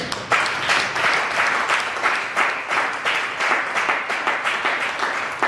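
A church congregation applauds, with steady dense clapping throughout and a few cheers rising and falling in waves.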